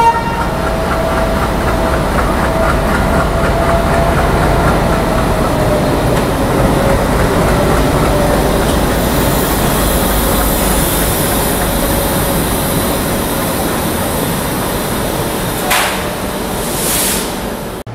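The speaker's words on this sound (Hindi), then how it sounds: "एक स्पेशल लोकोमोटिव मैं आप लोगों को दिखाना चाहूँगा।" A special diesel locomotive in Golden Rock shed livery rumbles past steadily on an open stretch of track in India, its engine drone and wagon noise sustained and loud, with a short horn-like burst near the end.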